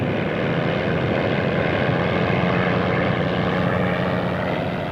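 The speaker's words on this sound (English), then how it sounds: "Its 800-horsepower engine is fired up." An 800-horsepower racing airplane engine running as the plane taxis out for a qualifying round, a loud, steady propeller drone filling the whole stretch without talk.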